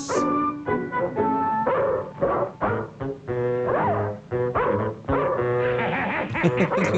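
A dog barks and yips in a 1959 Santa Claus film, several loud close barks in bursts over a backing music score.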